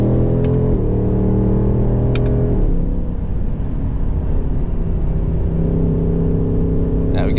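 2024 Ford Mustang GT engine accelerating hard on a road past a truck, a loud sustained close rumble with shifting tones and a brief high whine, constant in level throughout with no speech.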